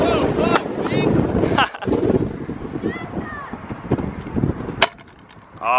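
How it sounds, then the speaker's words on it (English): Strong gusts of wind buffet the microphone while skateboarding outdoors in a windstorm, with loud low rumbling bursts and short shouted voices throughout. "It's so windy."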